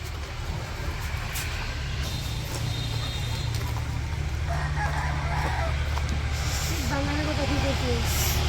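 Chickens cluck and a rooster crows nearby in a rural Bangladeshi household, with a steady low hum of vehicles in the background.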